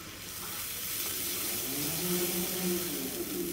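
Two goat brains frying in a pan with salt and cumin powder, a soft continuous sizzle and hiss that builds slightly, with a faint low hum underneath and no talking.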